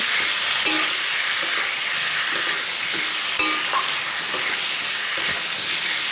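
Potatoes tossed with salt in a pan give a continuous steamy sizzle with soft periodic scrapes of stirring, close and steady, no speech.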